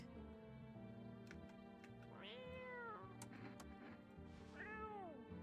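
A cat meows in the Hey Guy video game, two clear drawn-out meows rising and falling over steady background game music, fairly close and distinct.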